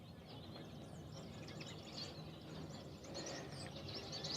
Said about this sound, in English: the recorder is picking up all the bird sounds, that it's spring here in Alabama